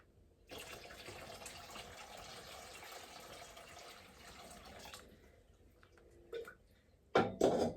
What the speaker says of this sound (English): we are just going to add the rest of this hot water, I think, into this bin, because it's probably going to take it all